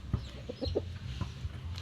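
A chicken gives a few short, close clucks in quick succession, moderately loud and alone over a low background.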